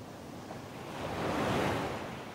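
Rough sea off Cape Horn surges under a strengthening wind, a broad wash of waves swelling louder toward the middle and easing off, with wind gusting across the microphone and no talking.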